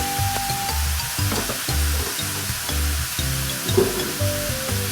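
Bean sprouts with pork blood, tofu and minced pork stir-frying in a hot pan give a constant loud sizzle, broken by rhythmic stirring scrapes, with soft music underneath.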